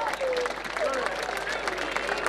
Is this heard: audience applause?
yes